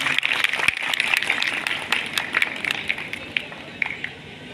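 Audience at a beauty expo in a hotel hall clapping in a dense burst of applause that fades toward the end.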